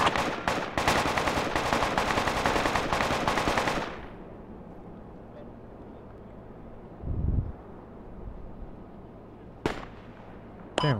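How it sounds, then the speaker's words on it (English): Rapid, dense automatic gunfire from a machine gun kit in the military shooter Project Reality, a loud sustained burst for about four seconds, then quieter ambience with a few scattered distant shots. "this machine gun kit's very useful here"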